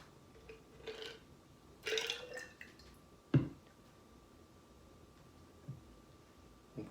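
Big Mich Pepino Michelada mix, a cucumber, tomato and spicy blend, poured into a container in faint, short liquid splashes and drips with a sharper knock partway through.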